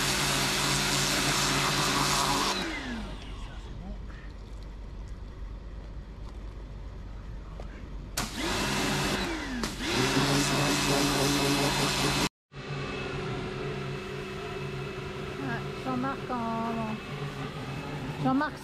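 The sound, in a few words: small Kärcher pressure washer running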